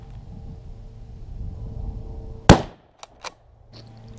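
A single loud rifle shot, a 9.3x62 round fired at a male wild boar during a hunt in Provence, cracks out after quiet outdoor ambience, followed by two short sharp knocks and a fainter thud.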